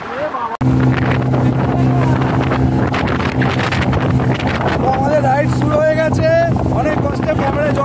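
A motorboat ride through sea waves at Digha: a loud, steady engine drone with rushing water and wind buffeting the microphone, while voices shout and cry out over it.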